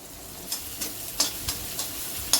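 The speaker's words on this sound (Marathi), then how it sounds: "आपल्याला सगळं फास्ट गॅसवर परतून घ्यायचंय" Onion, garlic and ginger sautéing over a high gas flame for a cabbage Manchurian gravy make a soft, steady sizzle, punctuated by several distinct clicks and taps from a spoon stirring against the pan.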